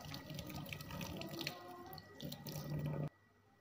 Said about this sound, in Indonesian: kita hempaskan semua lemak-lemak yang menempel pada kitchen sink agar kitchen sink selalu mengkilat dan tidak kotor